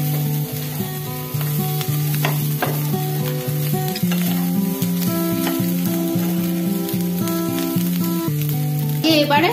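Fish roe and potato pieces sizzle steadily in a pan, with intermittent scraping and stirring strokes over a continuous frying hiss, close and fairly loud, with no speech.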